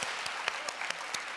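Audience applause at a women's political luncheon, a steady wash of many hands clapping through the whole moment, with a few sharper claps standing out at an even pace.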